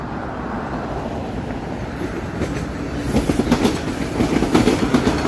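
A Toronto subway train near the Davisville yards gives a steady, loud rumble with rhythmic clickety-clack from its wheels, building toward the end, with no voices.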